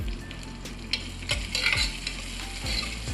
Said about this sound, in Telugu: కొంచెం అల్లం వెల్లుల్లి పేస్ట్, పసుపు వేసుకొని కొద్దిసేపు అయితే ఫ్రై చేసుకుంటున్నాను